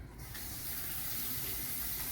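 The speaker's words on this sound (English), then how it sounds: "let's wash our hands." Water from a home kitchen tap runs steadily into a sink during handwashing, a close continuous gushing spray with no talking.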